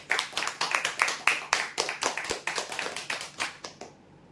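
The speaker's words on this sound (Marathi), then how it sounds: "जोरदार टाळ्या उद्या यासाठी।" An audience at a prize draw claps for a winner, a fast, bright, rhythmic run of hand claps that holds steady and then cuts off abruptly.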